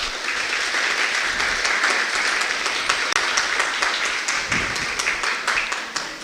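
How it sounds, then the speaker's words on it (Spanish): Sustained audience applause at the opening of a philosophy congress, a steady wash of many hands clapping with a few sharper individual claps standing out, continuing for several seconds without speech. "Un aplauso para todos ustedes"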